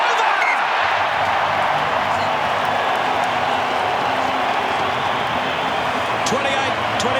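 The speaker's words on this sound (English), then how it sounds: "Listen to the crowd." A 45,000-strong stadium crowd at Suncorp Stadium roars loudly and steadily after a successful kick in a 2014 Wallabies vs All Blacks rugby match, a dense, unbroken wall of cheering with a commentator talking over it.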